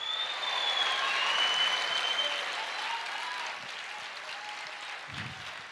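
A church congregation applauds during a Portuguese-language worship service, a dense, sustained sheet of clapping that slowly fades a little, with a brief voice near the end.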